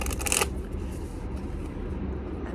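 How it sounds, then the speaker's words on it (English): Playing cards riffle-shuffled up close in a quiet indoor setting, a short crisp burst of flicking at the start that fades into a low steady background rumble. "I'm going to do one more shuffle here."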